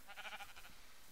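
A sheep in Minecraft gives a short run of bleats, faint and thin, then fades into near silence.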